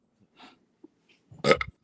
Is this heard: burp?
yes